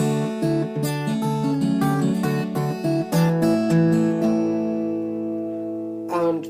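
Advanced fingerstyle guitar arrangement of Molly Malone (Cockles and Mussels): a melodic phrase with pinched bass and treble notes ending on a ringing chord that fades, close and clear without speech.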